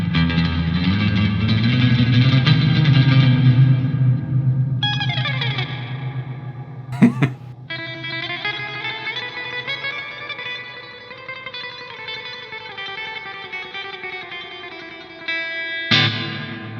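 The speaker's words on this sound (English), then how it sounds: "Let's go all in with the spring reverb just for the sake of it" Electric guitar run through a Two Notes Torpedo CAB M with spring reverb turned all the way up: sustained distorted chords ring out and wash into long splashy tails, then single notes and a sharp strike bloom into drippy reverberation.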